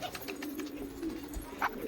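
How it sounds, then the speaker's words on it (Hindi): Pigeons being fed roti coo softly nearby, a low murmuring coo running steadily beneath faint rustling, with one brief brighter call near the end. "कबूतर छींक रहे हैं सारे"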